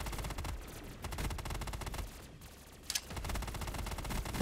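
Rapid bursts of automatic gunfire from Call of Duty in a cramped Tokyo apartment room fight, loud dense rattling volleys running almost continuously with a brief lull midway.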